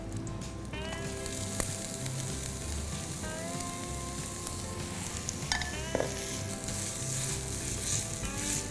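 Small shallots stir-frying in a pan for a stuffed chilli kebab, continuous bright sizzle with occasional stirring knocks and scrapes, close and steady with no talk.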